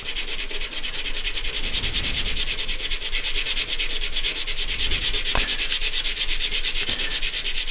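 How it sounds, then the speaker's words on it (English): Steady, rhythmic rasping of 80-grit sandpaper rubbed by hand across epoxy on a turned wooden piece, continuous strokes close up with no voices. "to speed things up, I'm using 80 grit just on the epoxy until I get down close to the wood"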